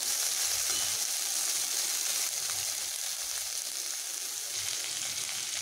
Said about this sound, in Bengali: এগুলোকে বেশ ভালোভাবে ভেজে নেব। ভালোভাবে ভাজলে করলার তেতো ভাবটা কিছুটা কমে যাবে।